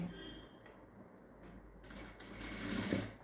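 A sewing machine stitching a folded quarter-inch hem on a blouse, its soft rapid whir rising into a brief louder run near the end, fairly quiet and close.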